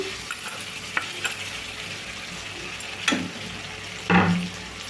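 Ginger garlic paste sizzles and fries in a pan for a tomato dal curry, a steady close crackle punctuated by a few scraping stirs, the last one louder.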